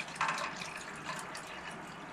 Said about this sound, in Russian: Потом наливаем кипяток.